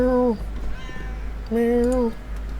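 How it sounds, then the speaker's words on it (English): A cat in the video game Armikrog gives two clear, drawn-out meows separated by a short pause, loud and close over a low steady hum. "Meow."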